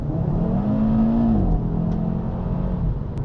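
An Audi RS3 engine pulls steadily under acceleration while driving, a continuous loud drone whose pitch climbs then drops at a shift and climbs again, with no talking.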